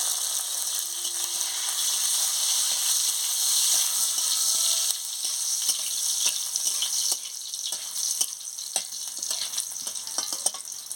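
Green chilies frying in hot oil for a water spinach stir-fry, a steady close sizzle and crackle with small pops throughout, no voices.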